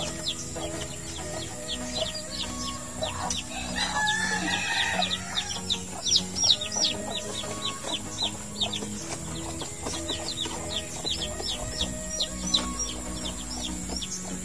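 Black Knight and Pumpkin Sweater chicks with hens in a brooder, a dense run of high rapid peeping and soft clucking throughout, fairly close and steady.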